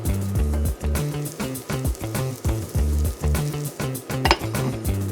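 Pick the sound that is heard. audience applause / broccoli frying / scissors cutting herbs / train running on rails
broccoli frying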